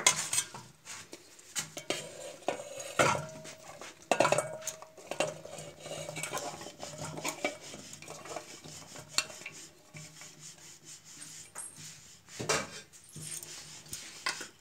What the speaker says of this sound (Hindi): अब मैं इस बर्तन में ये गोभी डाल देती हूँ